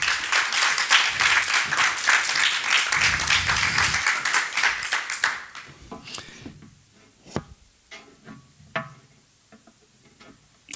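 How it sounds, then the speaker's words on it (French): Audience applause at a French conference event, a loud dense burst of clapping for about five seconds that then thins into scattered individual claps and fades. "Vous pouvez encore une fois l'applaudir."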